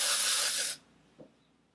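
A short burst of hair spray mists between sections of styled waves, a loud close hiss lasting under a second that cuts off abruptly, followed by a faint small click.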